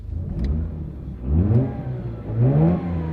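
A rotary-engine car revs three times in quick succession, each a smooth rising whir that climbs and falls back, heard close up without talk.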